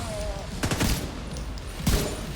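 M14 rifle fire in a video game: two loud, close bursts of sharp rifle shots, the first a quick rapid cluster and the second a single heavy crack near the end, with a steady background bed underneath.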